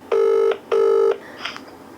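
A telephone ringing for an incoming call sounds as two loud, clean electronic rings about half a second each, separated by a brief gap, followed by a faint click.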